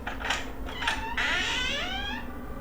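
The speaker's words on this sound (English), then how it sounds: "The door to the basement opened." A basement door swinging open, giving a drawn-out close creak and squeal of the hinge after a couple of short knocks, heard alone and fairly near.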